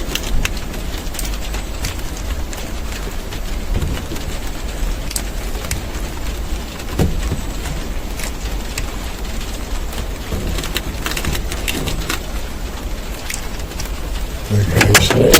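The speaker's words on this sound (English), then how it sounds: "It's raining quite heavy now." Heavy rain falls outdoors, a steady broadband hiss running throughout, with scattered taps and knocks, a vehicle passing faintly and a brief low voice near the end.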